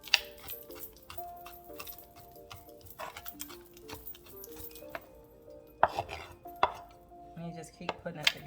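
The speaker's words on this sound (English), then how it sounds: "Now I'm just going to start chopping away." A kitchen knife chops stir-fry ingredients on a board in quick, irregular close-up taps and clicks, with a soft rocking rhythm and a few sharper knocks toward the end, plus faint clinking.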